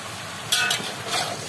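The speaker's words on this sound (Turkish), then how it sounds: "Qarışdırırıq ki, soğan altta qalıb yanmasın." Onions being stirred in a frying pan while cooking eggplant, a soft sizzle with a few quick scraping and clinking strokes of a utensil against the pan.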